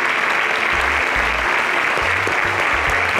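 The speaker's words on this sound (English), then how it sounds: "Can we give a round of applause to" Studio audience applauding finalists at a grand-finale competition show, with a loud, continuous wall of clapping and low thumps of music underneath.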